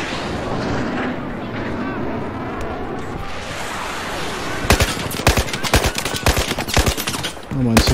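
Battlefield 4 gunfire on PS4: steady battlefield ambience gives way midway to loud, rapid automatic bursts and sharp shots, crackling in irregular clusters through the final seconds.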